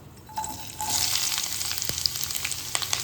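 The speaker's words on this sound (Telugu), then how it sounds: "ఇది మొత్తం ఆయిల్ వేసుకొని వేగనివ్వాలి" Onion, carrot, capsicum and cabbage fry in oil for veg noodles, starting quietly and then breaking into a close, continuous sizzle with a few sharp pops and clicks.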